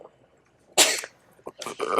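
A single sharp, close sneeze bursts out after a quiet moment, followed by a short breathy exhale and a second smaller burst.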